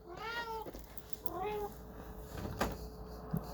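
A pet cat meows twice at close range indoors, asking to be let out of a room, with soft rising-falling cries separated by a pause, followed by faint door or cupboard clicks.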